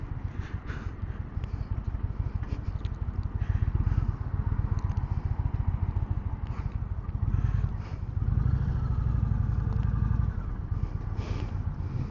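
An Indian Springfield motorcycle rumbles along, a continuous low engine drone with some rattle and surging throughout, heard without talk.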